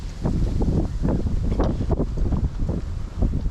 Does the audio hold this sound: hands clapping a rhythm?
no